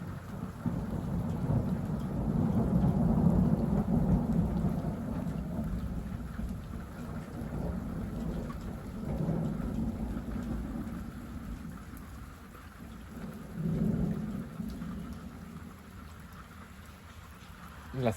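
Heavy thunder rolls through a strong early-season thunderstorm, with steady rain underneath; deep rumbles swell and fade repeatedly, loud and fairly close, with no voices.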